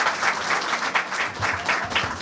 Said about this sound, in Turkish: bugün Türkiye Cumhuriyeti'nin kıvılcımının atıldığı ilk noktadan hep beraber bir selam alkışı verelim mi sevgili dostlar?